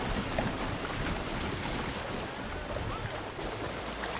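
A ship sails on open water in Horizon Forbidden West, heard as a steady, dense wash of waves, hull rush and wind that holds at an even level throughout.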